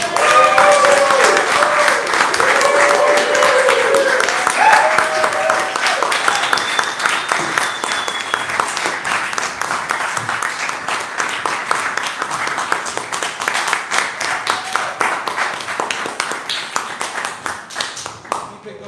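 Audience applause and clapping follow a live improvised comedy show, a dense wash of many hands that starts loud and thins slightly toward the end, with a voice and a few whoops mixed in.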